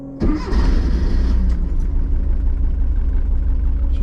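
A Porsche 914 engine cranks and catches with a sharp start, then runs on at a loud, steady, slightly uneven idle close by, with no talking.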